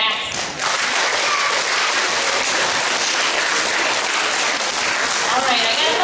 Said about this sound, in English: let's give a big round of applause for these Kernan All-Stars